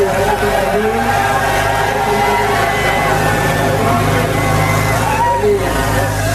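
A Sonalika 60 tractor engine labors at a trolley-pulling contest in Punjab, a steady loud drone with crowd noise and an announcer talking over it throughout.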